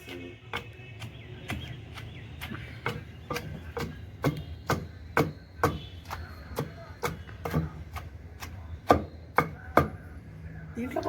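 Cucumber chutney ingredients are pounded coarsely by hand with a pestle, giving about twenty sharp, evenly spaced thuds in a steady rhythm. The blows are close and clear, with no talking over them.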